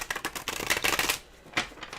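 Tarot cards riffled and shuffled in quick crisp bursts, with a pause before one last short flick; close up, no talking.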